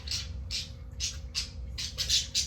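Pet birds squawk and chirp in short, sharp bursts about every half second, fairly close and clear, with a low steady hum underneath.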